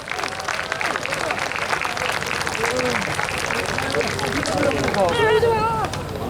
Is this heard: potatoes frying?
no